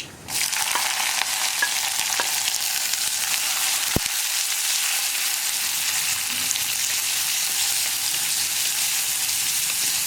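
Onions frying in coconut oil with mustard seeds for kumbalanga erissery, a steady loud sizzle with a single sharp tick near the start, no voices.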